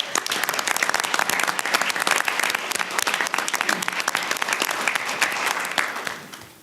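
An audience at a university board of curators meeting gives sustained, dense applause with many hands clapping at once, loud and steady before tapering off at the end.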